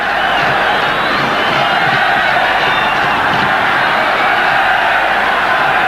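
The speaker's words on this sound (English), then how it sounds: "Now the crowd roaring Zambia on." Huge stadium crowd roaring in support of Zambia during the 1994 Africa Cup of Nations final against Nigeria, a loud, continuous wall of chanting and cheering heard from within the stands.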